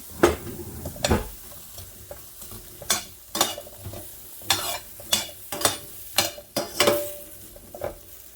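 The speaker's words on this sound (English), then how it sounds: "So the butter is melting." Butter melts and sizzles in a pan with radishes, a soft continuous fry under a series of sharp spoon or spatula scrapes and knocks against the pan, roughly one every half second to second.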